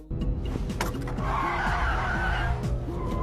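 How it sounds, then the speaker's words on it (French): A car brakes hard with a loud, sustained tire screech and skid over engine rumble, close and intense for a few seconds. "son chauffeur écrase brutalement les freins"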